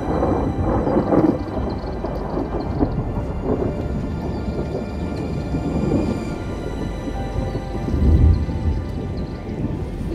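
Heavy rain pours steadily on a campsite during a thunderstorm, with low thunder rumbling under the downpour and swelling into a louder roll near the end.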